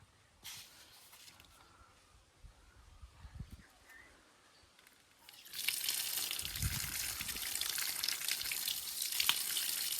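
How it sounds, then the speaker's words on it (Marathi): Water runs from a tap as hands and feet are washed, a faint trickle at first that swells halfway through into a loud, steady gush close by. "पाय धुवून घ्यावा चप्पल आणि धुवून घ्यावा"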